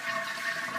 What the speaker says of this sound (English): And then flush your toilet.